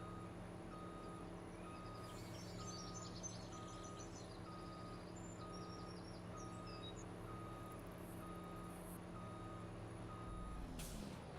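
A Kenworth truck backing up, its reversing alarm beeping in a steady regular pulse over a constant engine hum, with a short air-brake hiss near the end.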